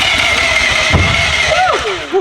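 A rotary engine cranks loudly and steadily on its first start attempt, powered by a jump pack and fuel pump, with a rising and falling whine near the end.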